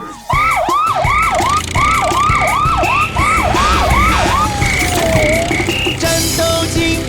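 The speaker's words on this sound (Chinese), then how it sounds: "战斗警报声响起，警车全速出击" A cartoon police car siren wails loud and close in rapid rising-falling sweeps, then glides down into a slower tone, over bright tonal music in a children's animated show.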